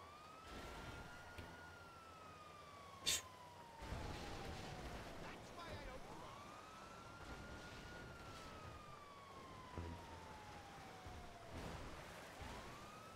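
A police car siren wails in GTA Online, a loud rising and falling tone sweeping in long cycles, with engine noise and a sharp bang partway through beneath it.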